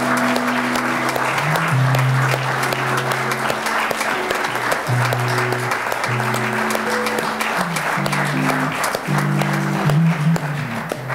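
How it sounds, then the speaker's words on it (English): A church congregation applauds steadily as people come forward to be baptized, with live music playing underneath the dense clapping throughout. "Give them a big round of applause as they come."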